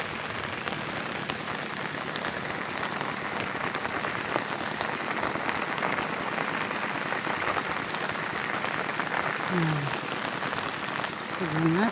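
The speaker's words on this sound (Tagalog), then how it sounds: "ang sarap maggala pag ganito, ambon-ambon lang, hindi malakas." Light drizzle falls steadily on the surroundings outdoors in the countryside, a soft continuous patter filling the whole stretch at an even level, with a brief animal call near the end.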